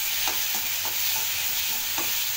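Cut tomatoes tipped into a pan of softened onions and garlic, with a steady broadband sizzle throughout and a few soft scraping stirs of a spoon against the pan, close and alone without voices.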